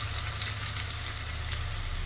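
Prawns for a Kerala-style roast masala fry in coconut oil with green chilli, ginger, garlic and shallots, giving a steady, dense sizzle close to the pan with no voices.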